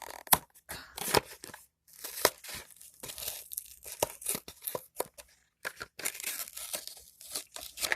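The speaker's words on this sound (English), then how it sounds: "I'll just rip the rest of this off and throw this away later." Packaging is torn and ripped off a model kit in a series of sharp, close tearing and crinkling bursts with short pauses between, no talk.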